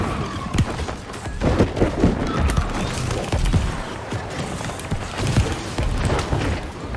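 Gunfire in an online multiplayer shooter, rapid bursts and heavy thumping impacts mixed with explosions, dense and loud throughout with no clear pauses.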